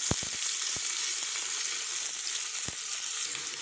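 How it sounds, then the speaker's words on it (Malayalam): Chopped onions frying and stirred into masala for chicken rice, a loud continuous sizzle with a few sharp clicks of a spoon against the pan at the start and once more midway, no voices. "സവാള ഇട്ട് കൊടുത്തതിന് ശേഷം നന്നായി മിക്സ് ചെയ്യാം."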